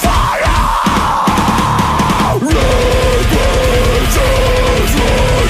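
Loud, dense metalcore with distorted guitars and pounding drums, a shouted or sung vocal line riding over the wall of sound.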